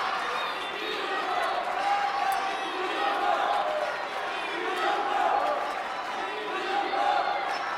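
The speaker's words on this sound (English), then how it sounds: "as the crowd chants for Dima, it drowns out the chants for Fan Zhendong" A table tennis arena crowd at the 2017 ITTF World Tour Grand Finals chants rhythmically for Dima Ovtcharov against Fan Zhendong, a dense, steady roar of many voices in swelling repeated waves.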